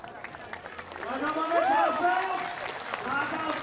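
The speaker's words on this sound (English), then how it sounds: "Getting a round of applause from the crowd, and she waved back to them" A crowd applauds and cheers a woman BMX freestyle park rider at a World Cup final in Shanghai, the broad noise of clapping swelling after a moment and holding steady, with a commentator's voice running over it.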